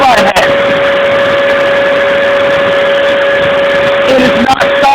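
Dyson Mini Turbine Head vacuum pressed down hard onto colored gravel, holding a loud, steady motor whine with brief clicks at the start and end.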